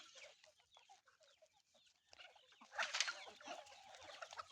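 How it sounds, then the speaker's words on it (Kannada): Native country chickens grazing in a group on a Mandya district farm cluck softly and intermittently, faint and somewhat distant, with the clucking growing busier in the second half. "ತುಂಬ ಸಖತ್ತಾಗಿ ಅದ್ಭುತವಾಗಿ ಮೇಯ್ತಾ ಇದ್ದಾವೆ ನಾಟಿ ಕೋಳಿ ನೋಡಿ"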